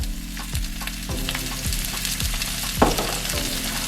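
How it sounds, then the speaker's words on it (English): Vegetables sautéing with garlic powder in a pan, a constant loud sizzle up close, with a spatula scraping and tapping the pan now and then and a low steady hum behind it. "Now we're going to saute it with garlic powder to taste"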